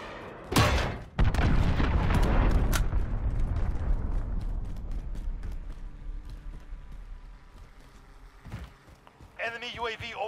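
Cruise missile explosions in the Call of Duty: Modern Warfare multiplayer beta: two heavy booms hit in quick succession near the start, then a long rumbling roar fades away, with a further thud and chatter-like game sounds near the end.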